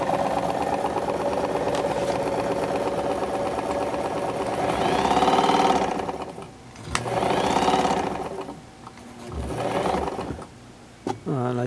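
A vintage 1958 Kenmore model 117.841 sewing machine, restored after years of disuse, runs in steady bursts with a loud, even mechanical hum, pausing briefly between runs and easing off near the end.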